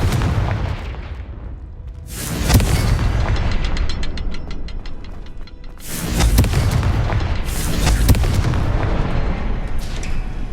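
In the video game Hogwarts Legacy, a Confringo blasting spell explodes with heavy booms and crackling debris, with two big blasts a few seconds apart amid rumbling game effects.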